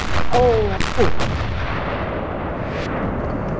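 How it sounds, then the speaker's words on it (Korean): A second landmine explosion near a DMZ gate erupts as a loud close blast with a sharp crack, then rolls off into a long fading rumble; a brief tonal cry sounds near the start. "통문 안쪽에서 2차 폭발이 일어났습니다"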